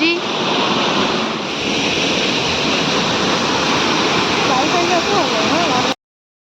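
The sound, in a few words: waterfall at Gundicha Ghagi, Keonjhar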